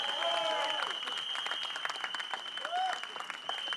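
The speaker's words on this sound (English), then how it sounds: "Please give him a round of applause." Audience applause at a film teaser launch event for the guest Ritesh Sidhwani, a steady dense clapping from a crowd with a sustained tone and brief voices over it.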